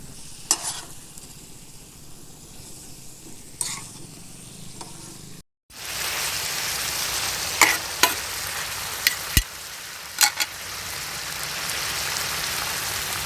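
Tawa chicken cooking in a pan over a low flame gives off a steady, gentle sizzle, broken by a few sharp clinks and scrapes of a utensil against the pan. The sizzle grows fuller after a brief silence.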